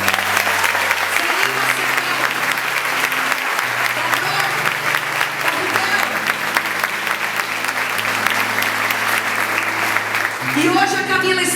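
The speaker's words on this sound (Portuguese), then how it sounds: "E você pode aplaudir mais forte." Audience at a gospel church event claps loudly and steadily throughout, the dense applause running over sustained music.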